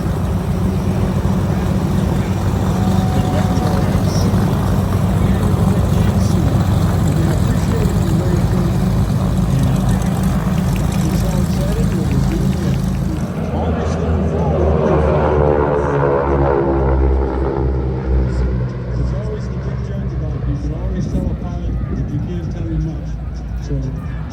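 An airshow aircraft taxis past with its air brakes open at Wings Over Camarillo in August 2024. A loud, steady engine roar fills the whole clip while an announcer talks over it.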